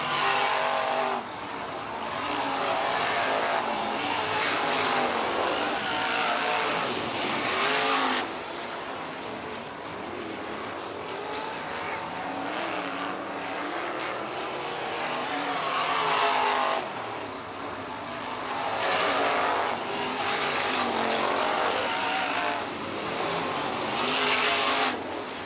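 Race cars run a ten-lap qualifying race at Southern Oregon Speedway, with loud engine roar building and fading in long waves as the pack sweeps past again and again, no voices above the din.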